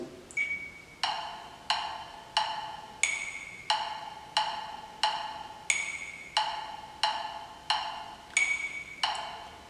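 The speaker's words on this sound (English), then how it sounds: "So if I have that, and I get the metronome going, it's going to sound like this." Metronome app ticking steadily at 90 beats per minute, fifteen crisp, evenly spaced clicks with an accented higher click at the start of each bar, clear and alone with no talk.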